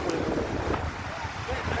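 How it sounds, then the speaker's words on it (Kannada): A speed boat crosses the sea at Chandrabhaga beach in Konark, Odisha, heard as a steady broad roar with heavy wind buffeting the microphone. "ಚಂದ್ರಭಾಗ ಬೀಚ್ನಲ್ಲಿ ನಮ್ಮ ಪ್ರವಾಸಿಗರು ಈಗ ಸ್ಪೀಡ್ ಬೋಟ್ನಲ್ಲಿ ಪ್ರಯಾಣ ಮಾಡ್ತಾರೆ"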